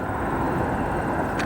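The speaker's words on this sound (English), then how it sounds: "That Dreamliner arriving from Amsterdam." A Boeing Dreamliner airliner arriving from Amsterdam at O'Hare Airport, a steady broadband jet roar holding level throughout the short stretch.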